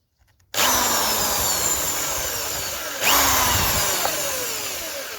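A step drill bores a hole through a camera mounting box, whining loudly and steadily from start to finish, with a fresh surge partway through as the bit bites into the next step; no voices are heard.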